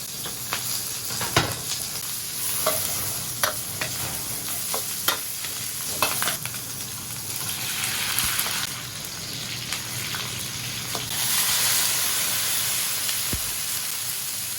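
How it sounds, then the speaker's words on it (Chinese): Scallion, ginger and garlic stir-fried in a hot wok for braised pork belly, with a steady close sizzle and hiss broken by repeated scraping and clacking strokes of the spatula, swelling louder near the end. "葱姜蒜爆香"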